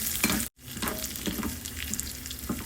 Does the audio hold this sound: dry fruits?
yes